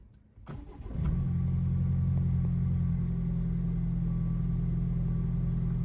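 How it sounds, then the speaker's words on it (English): A truck fitted with an aftermarket SXTH Element off-road trail pipe exhaust cranks briefly and catches, settling into a deep, steady rumbling idle heard from inside the cab, with no one speaking. "Now we're going to start it up from inside the truck so you can hear what it sounds like in here."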